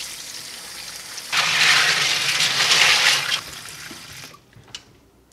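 Running water gushes loudly over LEGO parts being rinsed clean of soap, a steady rushing pour for about two seconds that then cuts off, leaving a quiet drip or clink.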